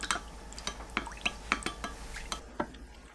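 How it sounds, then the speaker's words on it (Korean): Seasoning water mixed with fine salt and tomato sauce poured into a pot of rice cakes and beef balls, heard as a series of close, distinct drips and splashes with small clinks. "양념물을 부어줍니다."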